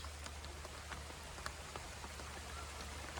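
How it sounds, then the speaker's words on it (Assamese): Rain pours steadily on a treehouse, a dense even hiss with scattered sharper drips and taps close by, no voices over it. "বৰষুণ পূৰা আহি গ'ল"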